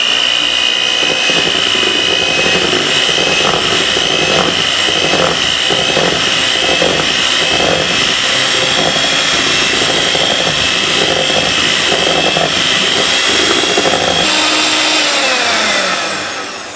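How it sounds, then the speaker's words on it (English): A hand mixer beats thumbprint cookie dough in a bowl, a loud, steady motorized whir running continuously with a constant pitch before winding down at the end. "Now you want to take your hand mixer, you want to beat that really well."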